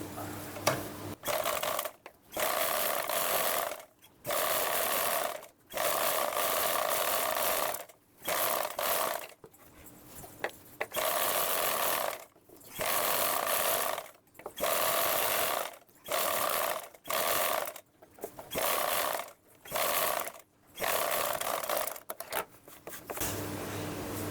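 A sewing machine stitching a lined blouse runs in repeated short bursts of rapid mechanical whirring, separated by brief pauses, close and fairly loud.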